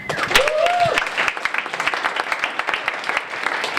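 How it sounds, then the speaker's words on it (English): Audience members at a town hall meeting clap, a mix of crisp individual claps building into a steady patter; a brief tonal sound rises near the start. "We can give a huge applause for that."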